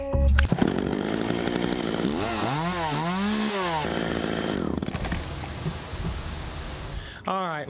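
Echo CS-400 chainsaw running after a new carburetor install: a loud, close two-stroke engine revving up and down in swooping waves, then settling into a steady idle before cutting off near the end.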